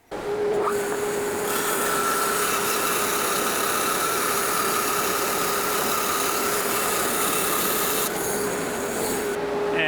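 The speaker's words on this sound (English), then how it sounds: "just a couple of quick cleanup passes through the planer and we'll get it to the final thickness" A thickness planer feeds hardwood coffee-table stock through on a cleanup pass to final thickness, a loud steady whine and roar starting abruptly and holding continuously close by with no talking.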